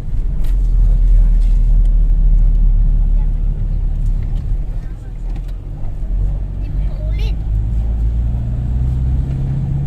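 A family car straining along a road on the way to a river, its low engine rumble steady and loud throughout, with faint voices underneath.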